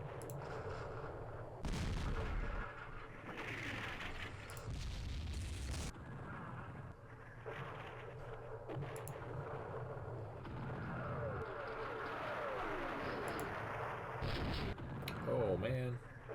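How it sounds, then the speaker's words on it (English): Artillery fires in the Campaign Series Vietnam strategy game, French scenario, with several heavy booms and bursts spread through a busy, rumbling battle soundscape at low overall level. "the French have a lot of artillery support"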